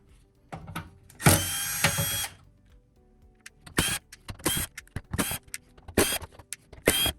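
A power screwdriver backs screws out of the case of an NAD 916 multi-channel amplifier, one longer whirring run followed by a string of short close-up bursts.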